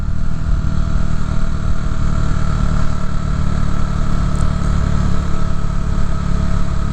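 Motorcycle idling steadily at sunset in a Chicago park; a loud, close engine with an even low rumble and no revving, continuous and alone throughout.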